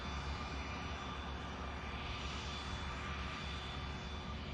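Aircraft engine roar from a German-registered plane at Manchester Airport, a steady broadband drone held at an even level for the whole stretch with no break or rise.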